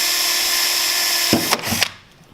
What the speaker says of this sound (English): and then you'll start to drill your holes.